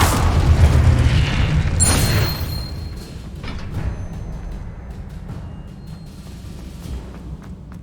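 A Confringo fire spell goes off in the video game Hogwarts Legacy with a heavy, booming blast that rumbles and then fades into a crackling tail and scattered debris clicks, with no voices.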